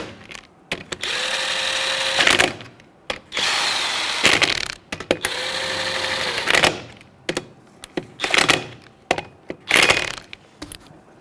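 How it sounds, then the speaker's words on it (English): A power tool and 19mm socket snug the lug nuts on a 2007-2017 Jeep Patriot wheel in a star pattern, whirring loudly in several separate bursts with short pauses and ratcheting clicks between them. "Now with a 19mm socket, I'm going to snug it up in a star pattern."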